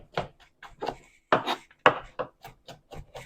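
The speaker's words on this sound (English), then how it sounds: "Chopping the vegetables takes up the most time." Vegetables for an oil-free vegan chili are chopped on a cutting board with a knife, a quick irregular series of crisp close thuds and scrapes with no voices over it.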